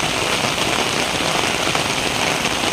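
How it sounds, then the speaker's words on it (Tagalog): Heavy typhoon rain pours down in a dense, loud, continuous hiss of drops striking surfaces nearby, steady from start to finish with no voices. "lumalakas naman ang ulan"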